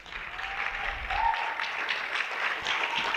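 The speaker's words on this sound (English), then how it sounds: "let's give a round of applause to our panelists" Conference audience applauding panelists after a youth and intra-Africa trade panel, a full round of clapping in a hall, steady and moderately loud, with a faint voice briefly rising near the start.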